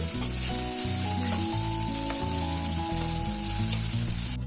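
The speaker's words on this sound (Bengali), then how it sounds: "এবার পেঁয়াজ কুচিটা দিয়ে দিলাম" Two large chopped onions hit hot oil with whole cumin for a Bengali tarka, a loud, dense, continuous sizzle and crackle filling the whole stretch close up, with a low steady hum underneath.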